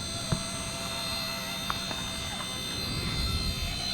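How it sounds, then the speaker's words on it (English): A thin, steady high-pitched whine of the small spinning main and tail rotors of a Black Hornet nano military drone in flight hums continuously, with a couple of faint clicks near the start and no voices. "One is the whiny little tail rotor, but the main rotor sounds good."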